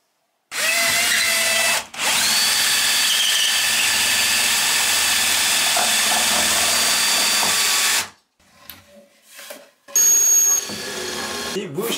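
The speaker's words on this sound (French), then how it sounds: "on va falloir le percer de part en part pour pouvoir maintenir cette plaque-là" A power drill bores straight through a plastic frame to take lag screws for fixing a climbing beam, running loud and steady for several seconds after a short pause, then stopping, with a few quieter bumps and handling noises trailing after.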